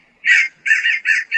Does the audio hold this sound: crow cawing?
yes